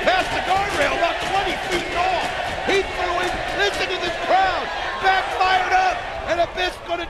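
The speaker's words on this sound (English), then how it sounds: "listen to this crowd" A wrestling arena crowd at a pay-per-view event roars and chants in waves of mixed voices, loud and reverberant, while a commentator talks over it throughout.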